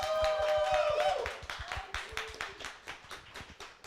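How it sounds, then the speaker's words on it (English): Audience clapping for an esports award winner at a college Valorant match event, a steady run of individual claps that starts under a voice and a brief tonal sound, then continues alone at moderate loudness. "I'd like everyone to give a round of applause for our winner of our Breakout Athlete of the Year."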